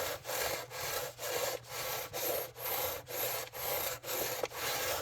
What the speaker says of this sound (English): So we're going to take the sanding beam back out